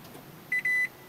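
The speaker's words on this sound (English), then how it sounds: "two beeps, it's ready to go" A Toyota Prius with a smart key gives two short electronic beeps on start-up, a brief tone and then a longer one, clear over a quiet cabin with no talking.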